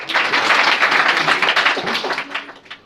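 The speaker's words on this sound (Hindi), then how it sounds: "चलो ये दोनों के लिए ताली हो जाए।" Students clap together in a classroom during an English grammar quiz, a dense, lively burst of many hands that stays loud and then thins out near the end, with a few voices beneath.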